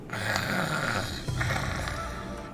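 A person imitates a snore with a steady, rasping breath-drone that runs for a couple of seconds, breaks briefly, then continues, up close and moderately loud.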